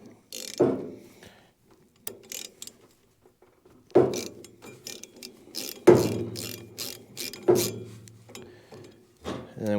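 An Allen key working a set screw on the fan blades of a diesel heater, giving a few sharp metallic clicks and scrapes in separate bursts with quiet gaps between them, close by and without speech.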